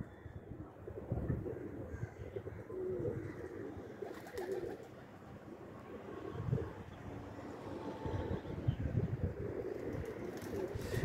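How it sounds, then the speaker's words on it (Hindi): Black jiri female pigeons of an old highflyer breed cooing nearby, soft low repeated coos in irregular bursts over faint outdoor wind and background rustle. "ये जी काली जीरी कबूतरी है,"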